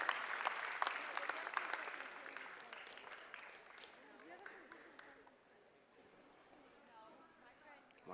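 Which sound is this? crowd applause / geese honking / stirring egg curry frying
crowd applause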